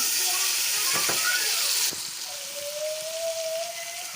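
Tomatoes drop into a hot cooking pot for a meat dish, setting off a loud, sharp burst of hissing steam and sizzle that cuts off abruptly, then settles into a quieter simmering hiss with a thin whistle-like tone.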